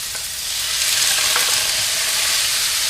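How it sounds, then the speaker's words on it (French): Pork hits hot peanut oil in a wok over high heat, and a dense, loud sizzle swells and then holds steady, with faint scraping as the meat is spread out and no talking. "Je vais commencer par faire revenir la viande."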